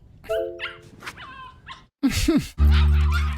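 A puppy whimpers and yips in short rising cries, then breaks into loud close barks, all in a television comedy scene with no talk over it.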